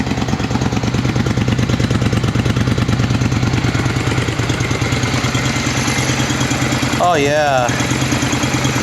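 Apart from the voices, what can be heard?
motorcycle engine idling with stock exhaust pipes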